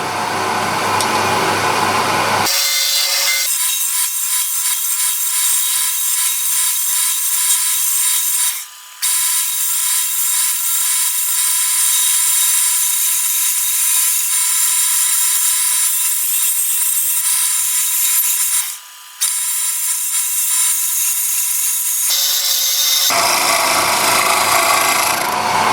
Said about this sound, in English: I'm just using a 3/8 bowl gouge and I should be turning as pretty much as fast as I can